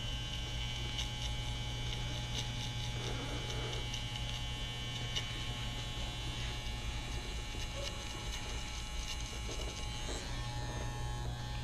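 Electric hair clippers fitted with a 0 guard running through a taper haircut, a steady close-up motor buzz with mains hum that holds constant throughout, the cutting strokes barely changing the drone.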